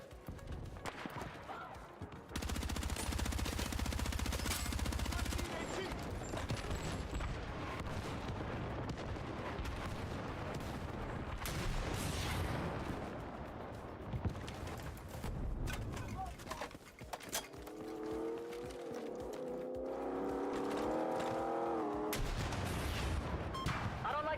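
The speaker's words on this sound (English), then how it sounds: "You are danger close to an airstrike." An airstrike and gunfire in the video game Battlefield 6 make a continuous loud, rumbling barrage of blasts and shots. Someone talks over the noise.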